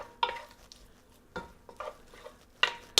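Chicken stir-frying in a nonstick pan, pushed around with a wooden spoon, giving soft sizzling and a few sharp scrapes and knocks at uneven intervals, close and fairly quiet with no speech.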